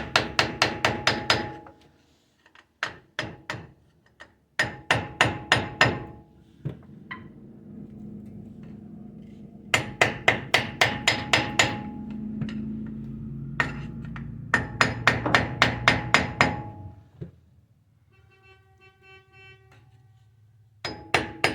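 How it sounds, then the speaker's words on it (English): Bursts of rapid metal hammer blows during a Dana 44 axle U-joint replacement, loud and close, in several runs separated by pauses, with a low hum and a faint beep near the end. "Need a hammer."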